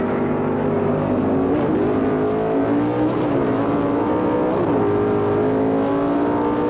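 Classic 1969 stock drag race cars roar down the strip, a loud sustained engine drone with rising and falling pitch sweeps, continuous without speech.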